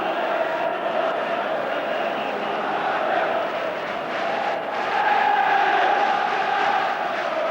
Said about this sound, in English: The crowd expectant